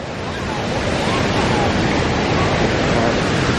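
River rapids at Minneopa Creek rush in a dense, continuous, loud roar of churning water close by, with wind buffeting the microphone and no voices.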